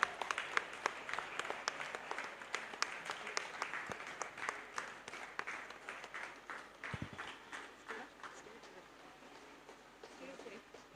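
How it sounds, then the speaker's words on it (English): Children and guests applaud at a school annual day event, a sustained crowd clapping that gradually fades over about eleven seconds, with some talk mixed in beneath it. "Give them a good round of applause, children."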